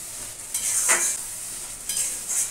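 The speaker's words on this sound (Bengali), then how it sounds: "আর একটু দিয়ে দিই গরম জল মশলাটাকে কষানোর জন্য" Masala sizzling in a pan as hot water is added for mutton kasha, with bright bursts of hiss and spatter around a steady low crackle, close and fairly loud.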